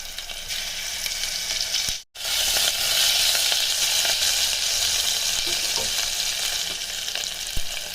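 Curry leaves, green chillies, turmeric and ginger-garlic paste sizzle loudly in hot oil in a pan. The close, steady frying hiss cuts out briefly once, then resumes just as strongly.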